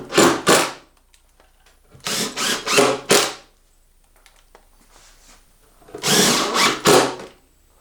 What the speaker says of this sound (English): Go ahead and screw it down.